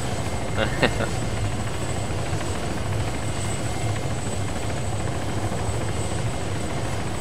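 In the video game Arma 3, a helicopter's rotor and engine drone steadily and loudly throughout as it flies in to land, with a brief click near the start and voices talking faintly underneath.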